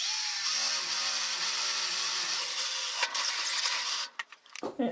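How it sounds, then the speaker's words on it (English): A steady power drill whines through the wall of a cargo trailer for about four seconds, then stops, followed by a few clattering handling noises. "So we'll drill the big hole"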